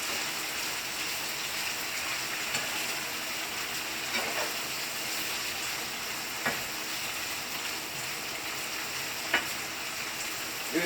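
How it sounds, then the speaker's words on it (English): Meat and vegetables sizzle steadily in a hot pan during a Greek-style stir fry, a dense, even frying hiss broken by a few faint clinks and scrapes from stirring, with no talking. "You see how I'm really like stirring them pretty good, almost like the way you do a typical stir fry."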